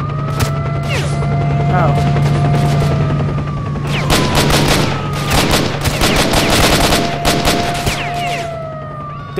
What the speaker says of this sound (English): let's shoot him from the roof.